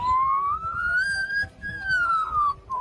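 Australian magpie mimicking a siren: a clear rising and falling whistled wail repeated in two long sweeps with a brief break, close and loud, with faint voices underneath.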